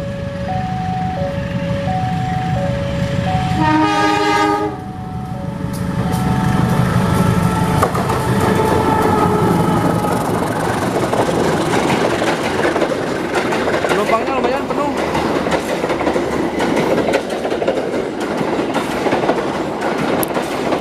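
A special Lebaran train in Bedug livery runs straight through Cilengka station. A chiming signal sounds first, then a loud, sustained rumble with rhythmic wheel clatter close by, and voices can be heard over it.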